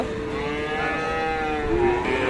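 At a rain-thinned livestock market with Friesian and crossbred bulls and heifers, one cow gives a single drawn-out moo close by, rising and falling over faint background noise.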